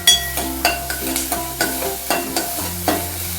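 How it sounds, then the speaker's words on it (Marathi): Onion dropped into hot oil with crackling mustard seeds and asafoetida for a Marathi padwal bhaji, frying steadily while a spoon stirs in rhythmic scrapes about every half second, close and fairly loud, no voices. "मोहरी टुनटुन उड्या मारायला लागली की मग हे टाकायचं हिंग, मग कांदा टाकून घ्यायचा"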